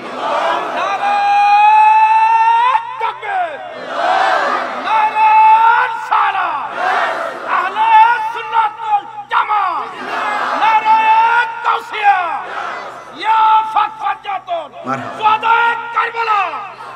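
A large crowd at an outdoor Sunni religious conference roars a loud, unified Allahu Akbar chant in repeated swells answering a takbir call, with voices rising and falling together over about seventeen seconds.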